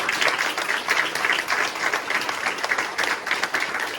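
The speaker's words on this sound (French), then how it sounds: "On l'applaudit encore." A theatre audience at a Christmas show applauds a young violinist, steady dense clapping from many hands filling the hall without a break.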